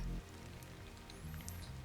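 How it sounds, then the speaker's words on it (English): Rain falls in the video game Stellar Blade as a soft, faint patter of drops over a low hum, lasting under two seconds with a brief high chime. "They call that rain."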